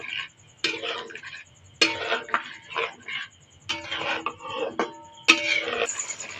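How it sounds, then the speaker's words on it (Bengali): Sour curd being stirred into potato curry in a pan: repeated scraping, clattering strokes of a spoon against the pan in irregular bursts, close and fairly quiet, with short pauses between them. "টক দই দিয়ে দেবো ভালো করে নেড়ে চেড়ে কষিয়ে নেবো"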